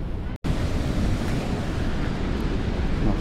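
Ocean waves crash onto rocks along the Biarritz shoreline, giving a continuous, close, roaring wash of surf with wind buffeting the microphone and one brief dropout near the start.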